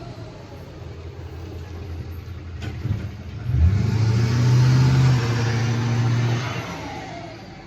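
A car backs up and turns around on a residential street, its engine swelling from a low idle to a steady, louder mid-pitched rumble for a few seconds before easing off, heard from a moderate distance with no talk.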